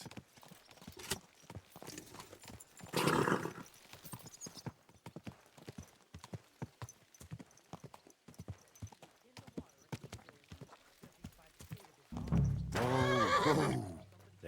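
A video game horse neighs twice, a short whinny early and a louder, longer one near the end, over a steady clip-clop of hooves throughout.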